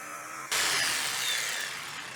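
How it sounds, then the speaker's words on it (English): A jigsaw cuts through a wooden wall stud outdoors, starting abruptly with a loud, steady buzzing rasp that runs continuously to the end, close and alone with no talk. "I'm just going to do it with my jigsaw."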